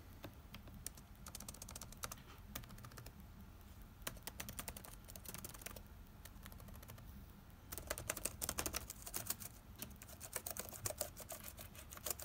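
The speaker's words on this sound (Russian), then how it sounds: "Собственно, проверка клавиатуры." Rapid, steady clicking of keys on a computer keyboard being tested, close and fairly quiet, growing denser and louder toward the end with no talk.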